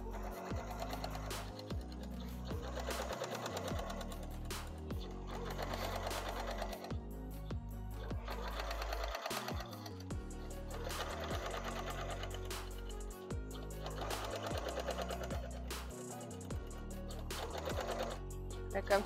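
A sewing machine stitches a seam on a handmade bicycle bag in repeated loud bursts a few seconds long, with short pauses between runs and no speech over it.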